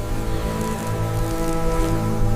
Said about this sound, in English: The rain changes the combat landscape.